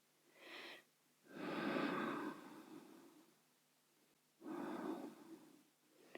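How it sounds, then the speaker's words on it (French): Slow, deep breaths during a yoga pose: three long, breathy inhales and exhales with pauses between, close and fairly quiet, with no speech. "Plusieurs respirations ici."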